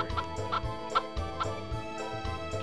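Clucking chickens on a farm in the Nintendo 64 game Harvest Moon 64, a steady run of short, close, repeated clucks over a layer of game background music.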